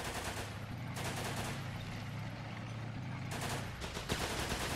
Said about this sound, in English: I heard the mortar.